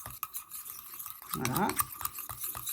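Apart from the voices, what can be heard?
stirring lotion ingredients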